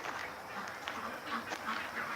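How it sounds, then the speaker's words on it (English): Flock of ducks gathered in a farmyard, quacking in scattered short calls over a steady, noisy outdoor background. "The yard's full of ducks."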